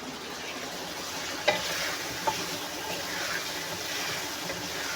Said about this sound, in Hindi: सबसे पहले मैं आलू डालूँगी इसमें